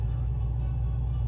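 A cammed Chevrolet C7 Corvette V8 idles on a dyno at about 900 rpm, a loud, deep, lumpy rumble that stays steady and close.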